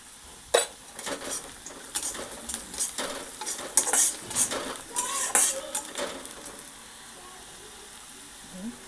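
Turmeric and coriander being stirred into hot oil in a pan, with repeated metal spoon scrapes and clinks against the pan over a low sizzle, fairly close and busy for several seconds before fading out.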